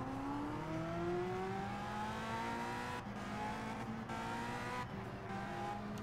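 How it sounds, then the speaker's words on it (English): Open-wheel race cars at the 1965 Indianapolis 500 roar past, with a loud, steady engine drone and rising and falling pitch sweeps as cars approach and pass, and another car following close behind. "Looking behind, got another car coming by."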